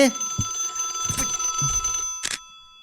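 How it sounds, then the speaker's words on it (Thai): A telephone rings inside the I'm on Observation Duty 3 video game, a bright bell-like electronic tone repeating several times with steady sustained overtones, while someone talks excitedly over it. "โอ้โทรศัพท์ดัง โทรศัพท์ดัง โทรศัพท์ดัง"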